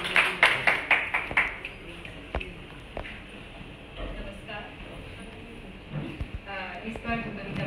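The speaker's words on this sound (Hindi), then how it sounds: "आप तालियों से स्वागत करें।" An audience at a contemporary Hindi poetry reading in Mumbai claps to welcome a poet, a short burst of rhythmic applause that quickly fades as people begin talking.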